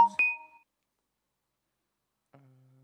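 Notification beeps from a new phone as messages arrive: two short, bright electronic tones right at the start, then quiet, and a softer, lower tone near the end.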